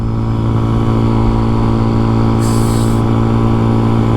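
A CFMOTO Papio SS motorcycle rides uphill with a loud, steady engine drone that holds an even pitch throughout, close and constant.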